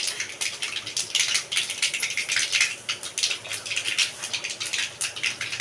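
Mustard seeds popping and crackling in about two spoons of hot oil, a rapid irregular patter of sharp little bursts, close and continuous.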